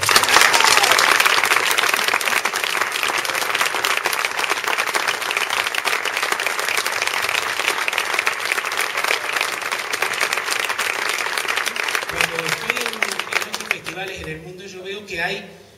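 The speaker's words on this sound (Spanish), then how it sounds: "Quiero pedir un fuerte aplauso para Chema, para Puri y para Julia Amalia," An audience at the awards and closing ceremony of the Coria guitar festival claps in dense sustained applause that slowly thins, and a voice speaks over the final seconds as it fades.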